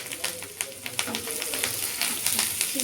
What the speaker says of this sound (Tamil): சின்ன வெங்காயம் கருவேப்பிலை போட்டு நல்லா வதக்கிட்டு